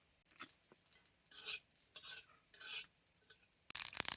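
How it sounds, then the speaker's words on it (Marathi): Sesame seeds roast on a griddle while a utensil stirs them, making soft, close scraping and rasping strokes in short bursts, with a louder clattering scrape at the end. "आता हे भाजेल तसं कसं तड तड बघा तिळ खालवर खालवर करूनच भाजून घेतो"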